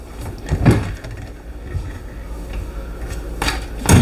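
Non-soft-closing kitchen cabinet drawers in an Alliance Delta 321BH RV clunk open and shut, with a couple of sharp knocks and bumps in a quiet interior.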